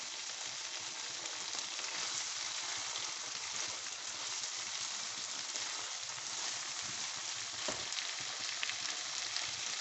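Hot ghee frying for brain masala, a steady close sizzle and crackle that holds at even loudness throughout, with no talking.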